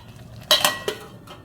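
A metal lid set down on a pan of ghee-coated flour gives two quick close clanks and a lighter clink after, over a quiet background.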